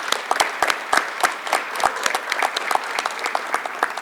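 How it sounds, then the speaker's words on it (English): Scattered, sparse clapping from a small group at a high school military induction ceremony, individual claps distinct and irregular, close to the listener. "I think you deserve a round of applause."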